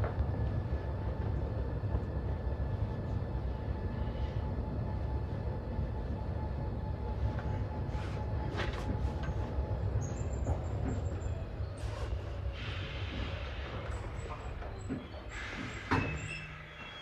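A London Underground Bakerloo Line 1972 stock train runs between Harlesden and Queens Park, a loud continuous rumble and rattle of wheels with a tonal motor whine that falls in pitch as the train slows, plus squeals and clunks near the end.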